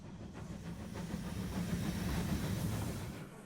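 A steam train in an anime film rumbles past with a steady hiss and a faint rhythmic clatter, moderately loud and unbroken, with no talking over it.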